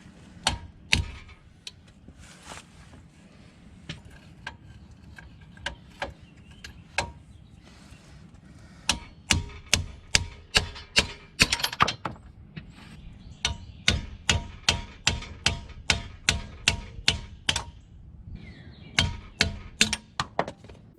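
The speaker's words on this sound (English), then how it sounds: "So all you're doing is catching the socket on this or anything and just tap it out." Sharp metallic taps of a socket knocking out a Dana 30 inner axle seal, a few scattered strikes early, then steady rhythmic runs of blows with brief pauses, close and loud against a quiet workshop background.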